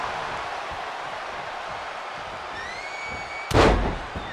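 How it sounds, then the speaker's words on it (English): A double axe handle landing from the top rope in WWE 2K23: a single sharp, heavy slam near the end, cutting through steady arena crowd noise and game music. "double axe handle connects."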